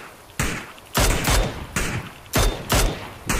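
Rapid bursts of video game gunfire from a Thai-played shooter, several loud volleys in quick succession with short gaps, close and punchy, with no talk over them.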